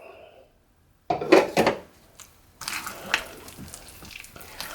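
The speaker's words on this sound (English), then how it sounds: "I'm going to go ahead and add 1/2 of that first and mix that in well" Flour is stirred into callaloo fritter batter in a bowl, heard as a burst of close, wet clattering scrapes followed by softer, uneven mixing sounds over low room noise.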